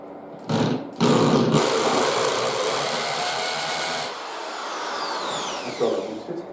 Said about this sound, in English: So I'm going to try a smaller drill bit